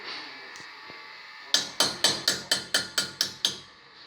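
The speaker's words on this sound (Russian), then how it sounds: "начинаем с зубила. Обрубываем все углы" Chisel struck with a hammer against the corners of a Mitsubishi Pajero 4D56 cylinder head: about nine sharp metallic blows in a fast, even rhythm, close and loud, after a quieter lead-in.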